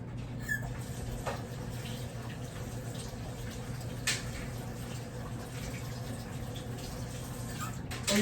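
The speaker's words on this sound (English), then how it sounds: "I gotta wash my hands." Hands are washed under a running kitchen tap, with a soft, steady stream of water and faint splashing heard up close and fairly quiet throughout.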